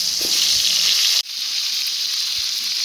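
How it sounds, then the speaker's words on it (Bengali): Potatoes sizzle and fry in hot oil in a pan for a Bengali tilapia fish curry, a steady loud hiss with a brief break midway before the frying resumes. "আলুগুলোকে ভাজতে দিয়ে দিল"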